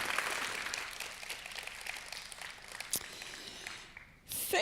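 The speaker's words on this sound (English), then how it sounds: "Please give her a big round of applause." An audience at a video game conference applauds a speaker with a dense wash of steady clapping that fades slightly toward the end before a brief voice cuts in.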